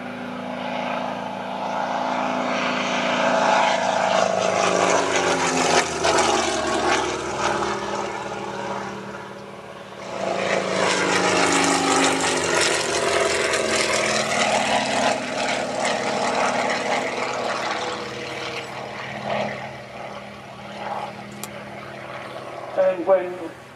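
A propeller aircraft flies past at the Shuttleworth air show, its engine drone swelling and fading in two long passes while a commentator talks over a public address.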